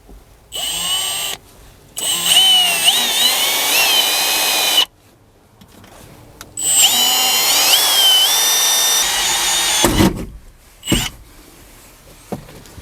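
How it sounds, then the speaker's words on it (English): A power drill whirs in several bursts, drilling a hole in a car dashboard, spinning up and winding down with pauses between, followed by a few sharp knocks near the end. "Drilling a hole in the dash."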